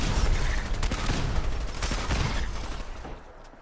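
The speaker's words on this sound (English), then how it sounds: "get the anti-sea monster cannon out" An anti-sea monster cannon in a wasteland survival video game fires a dense, booming volley of blasts that rumbles heavily and then fades, with no talking over it.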